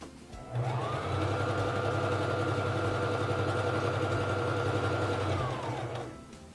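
A Singer Fashion Mate 3333 free-arm sewing machine runs a zigzag stitch, a steady close mechanical whir and hum that starts abruptly, holds evenly for about five seconds, then stops, with no voices.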